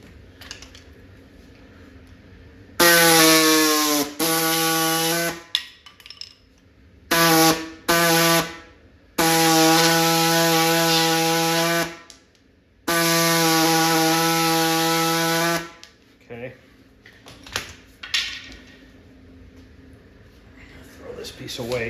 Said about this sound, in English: we'll take it on my bench grinder over there and see if we can't just take a little bit